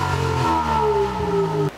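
A car engine fitted with a straight-through muffler revs with a loud, jet-like droning roar, its pitch shifting briefly before cutting off abruptly.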